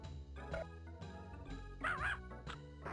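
Cartoon dog barking in the adventure game Putt Putt Goes to the Moon, a few short yips and bow-wows over a busy game music bed, moderately loud and close.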